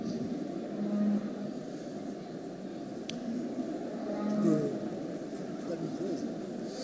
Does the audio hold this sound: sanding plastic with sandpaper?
no